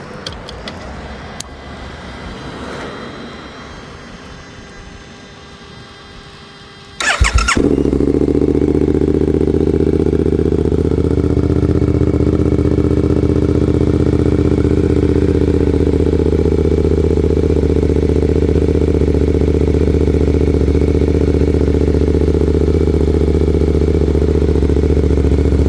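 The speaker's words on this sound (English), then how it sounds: "So I'm gonna give you guys a quick cold start of what this bike sounds like now." Suzuki GSX-8S motorcycle with a Delkevic full exhaust, baffles still in, cold-starting after some quiet handling noise: a sudden loud crank and catch, then a steady, deep, loud idle for nearly twenty seconds.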